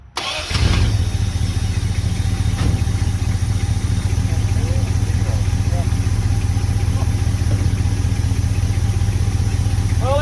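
Engine of a 1971 Dodge D100 pickup, abandoned for 34 years, catching after a brief crank and settling into a loud, steady, even idle up close.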